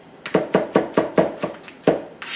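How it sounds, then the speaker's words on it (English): A knife chops smashed garlic cloves on a board in a home kitchen: about eight crisp, evenly spaced thuds in a quick rhythm, close and clear, with no talk. "I'm just going to put them under the knife, smash them, and then just give them just a quick"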